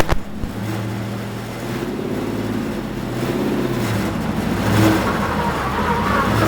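A yellow number 20 race car at Fontana revs steadily and pulls away from a standstill, a continuous engine drone rising slightly in pitch with wind noise over it, no voices.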